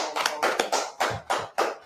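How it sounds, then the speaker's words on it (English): A small group claps in slow, spaced bursts of a few hands at a time, each burst sharp and close, with short gaps between them. "Let's clap that up."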